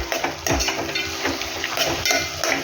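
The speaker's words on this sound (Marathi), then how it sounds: "सगळे फोडणीमध्ये मिक्स करून घ्यायची." Roasted chana dal being stirred into hot tempering in a pan while cooking a ripe cucumber dish, giving a close, continuous scraping and light sizzle with clatters of a spoon.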